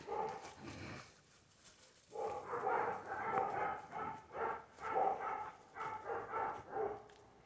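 A female dog plays indoors with other dogs, giving soft repeated yips, whines and muffled barks in short bursts, fairly quiet and close, with occasional human voices faintly in the background.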